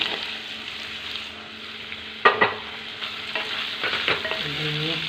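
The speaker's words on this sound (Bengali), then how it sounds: "এবার এই আলুগুলো এই মশলার মধ্যে দিয়ে দিই।" Fried potatoes stirred into spice masala in a pan, with close metallic spoon scrapes and clanks over a steady, moderate sizzle.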